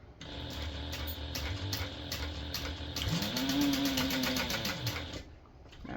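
A sewing machine stitches back across the webbing of a small tote bag, its needle running in a fast, steady mechanical chatter with a rising motor whine near the end, close and alone.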